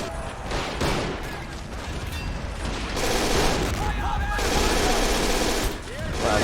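Gunfire and tank cannon shots in Men of War: Assault Squad 2, a 1944 bridge battle, with rapid machine-gun bursts and heavier booms coming loud and dense over several seconds.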